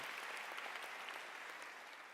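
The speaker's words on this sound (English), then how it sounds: "Give yourselves a round of applause." A crowd claps steadily at a school principal's address, a dense, even patter, moderately loud and sustained without voices on top.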